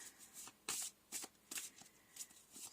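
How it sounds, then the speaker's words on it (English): Tarot cards flick and slap down onto a surface in a few quick, separate bursts, crisp and close, with short quiet gaps between placements. "I'm going to put down some more cards"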